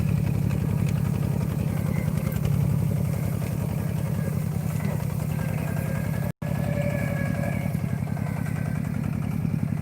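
A diesel tractor engine chugs steadily nearby while plowing under rice stubble, a loud low pulsing rumble that runs throughout with a brief cut partway.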